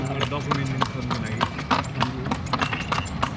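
Steady clip-clop of a new horse's hooves walking at an even pace, close by, with people talking over the hoofbeats, in Chitwan.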